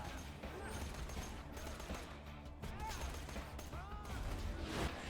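Gunfire from enemies shooting at the player in a shooter video game, a dense ongoing fusillade of shots and impacts under game sounds and talk, steady and fairly loud throughout.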